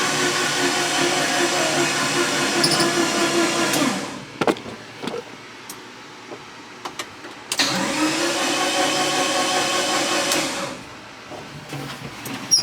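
An SRT4 engine, freshly assembled and installed in a Caravan, cranks over on the starter in two long steady bursts with a quiet pause between them, loud and close with no one talking over it.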